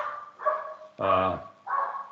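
A dog barks in three bursts: a short yelp, then a loud, full bark up close, then another shorter one, all fairly near.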